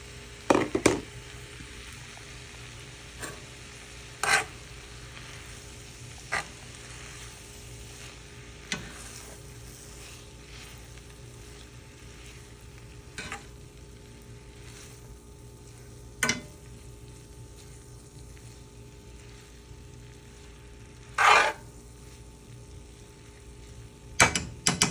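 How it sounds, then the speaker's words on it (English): Pre-cooked bacon is stirred into frying cauliflower and cabbage, giving a low steady sizzle broken by occasional sharp scrapes and clanks of the utensil against the pan. "take our pre-cooked bacon, put that on top, and then mix that on in"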